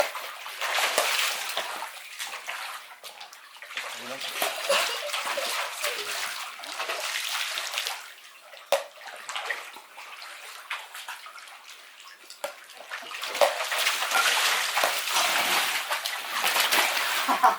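A swimming pool fills with water, a steady rushing splash and slosh running throughout, loud and continuous with brief dips, some faint voices underneath.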